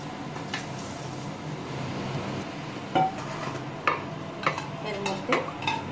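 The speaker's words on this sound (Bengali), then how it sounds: "এবার আমি বেরেস্তা ভাজাটা দিয়ে দেব।" Fried onions (beresta) being added and mixed into mutton biryani in a pot bring a low background hiss with several distinct spoon scrapes and clinks against the vessel, spaced irregularly toward the end.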